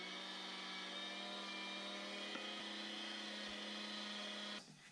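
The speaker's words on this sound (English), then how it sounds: "we're gonna put it through the grinder with some bacon" A meat grinder whirs steadily as it grinds iguana meat with bacon, a constant loud mechanical hum that cuts off abruptly near the end.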